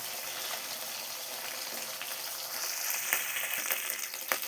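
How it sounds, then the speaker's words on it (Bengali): Steady crackling sizzle of fish frying in hot oil, close and continuous, with occasional sharper pops toward the end. "মাছগুলো যখন লাল লাল ভাজা হয়ে গেছে"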